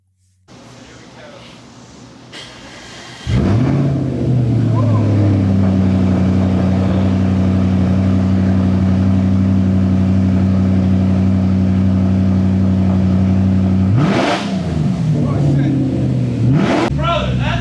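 An Audi RS5 V8 with no exhaust fitted idles raw and loud, then kicks into a harsh bark and a long steady high hold, drops, and revs up again close by.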